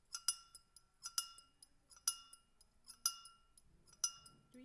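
Small object tapping and clinking inside a drinking glass, bright ringing chinks falling in a steady pattern of roughly one main strike per second with lighter taps between, close and quiet against silence.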